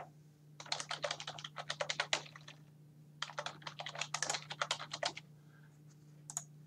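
Rapid bursts of typing on a computer keyboard as a rubric title is entered, crisp close key clicks in two quick runs separated by a short pause, over a low steady hum.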